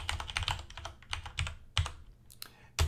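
Quick, irregular keystrokes clatter on a computer keyboard at close range, in uneven bursts with a few louder key hits and no talking.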